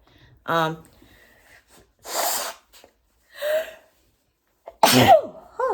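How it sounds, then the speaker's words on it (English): A sharp gasping intake of breath is followed by a loud, close sneeze, with breathy sounds between the bursts. "I knew I was going to sneeze in."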